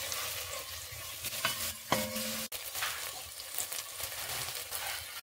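Carrot rice (carrot bath) stirred and fried in a pan, with a steady sizzle and scraping stirs throughout, one sharper clink near the middle, close and fairly loud with no talking.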